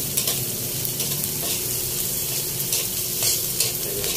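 Chopped garlic is stirred in a hot frying pan for a lumpiang hubad dish, giving a continuous, close sizzle with soft scraping from the stirring throughout.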